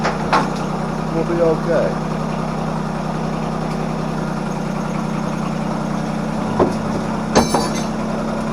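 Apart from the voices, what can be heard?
John Deere tractor engine running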